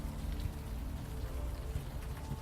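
Rain falling on city streets in the adventure game Unavowed, a faint, steady patter and hiss with no voices.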